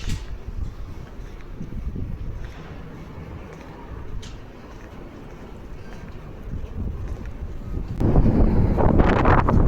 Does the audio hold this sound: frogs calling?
no